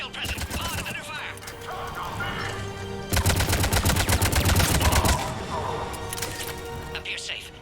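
Rapid automatic gunfire in Mass Effect 3 rattles in dense bursts, growing louder and more intense midway, while radio voices talk over the shooting.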